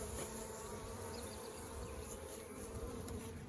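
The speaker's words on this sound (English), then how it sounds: "There's just just a few bees on here, just a little bit of sugar water left." Honeybees buzzing at a hive after smoking, a dense continuous drone of many bees close by, alone without talk.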